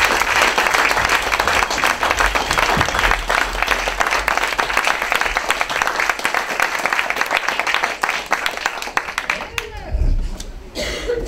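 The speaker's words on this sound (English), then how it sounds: "how about a round of applause for six panelists?" An audience at a Cherokee County GOP and Georgia Republican panel event claps for six panelists. The applause is loud, dense and sustained, with a few coughs and chuckles, then thins out near the end.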